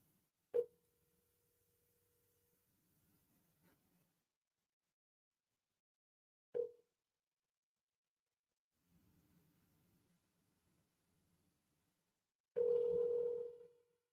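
A landline telephone call on a Spectrum line gives short sharp tones at the start and mid-way, faint ringing murmurs in between, then a louder steady tone at the end, all quiet with no speech.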